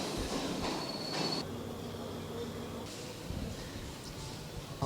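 A train rumbles steadily at Colombo Fort station, with loud rolling noise, a brief high wheel squeal and busy platform ambience throughout.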